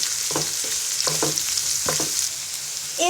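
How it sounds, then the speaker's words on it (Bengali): Chopped onions sizzle and fry in hot oil left from frying bata fish, with a steady bright hiss broken by several rhythmic scraping stirs close by. "এবার পেঁয়াজটাকে ব্রাউন কালার করে ভেজে নিব।"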